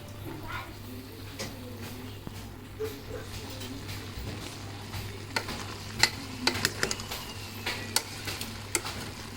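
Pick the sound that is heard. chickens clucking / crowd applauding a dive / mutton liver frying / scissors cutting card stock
mutton liver frying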